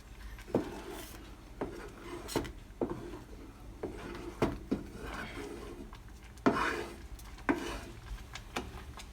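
Wooden spoon stirring thick Zambian nshima in a pot, a repeated close scraping and knocking against the pot every second or so, with no voices.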